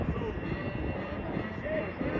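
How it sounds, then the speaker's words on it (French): A T-6 Texan propeller aircraft landing at the Orléans-Bricy airshow gives a steady, loud engine rumble and drone throughout, with an announcer speaking over the noise. "À l'atterrissage, sur votre droite, le T6 Texan de Frédéric Olivier."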